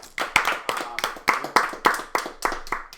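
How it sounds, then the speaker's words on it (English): At a live Dungeons & Dragons show, a small audience claps in a regular beat of sharp, ringing hand claps roughly a third of a second apart, close and fairly loud, without speech over them. "Big round of applause to Johnny."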